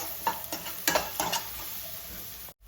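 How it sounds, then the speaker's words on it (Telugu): Onions fry lightly in a pan, with short close scraping stirs over a soft sizzle, and the sound cuts out at the end. "ఆనియన్స్ లైట్గా ఫ్రై అవ్వనిద్దాం, బాగా ఫ్రై అవ్వనివ్వద్దు"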